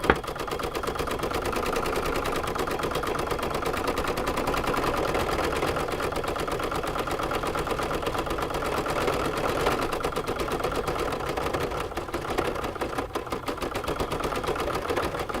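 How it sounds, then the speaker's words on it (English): An embroidery machine stitches the final section of an appliqué felt coaster in the hoop, giving a steady, fast mechanical rattle that runs continuously and fairly loud throughout, with no talking. "as it's stitching that last little bit"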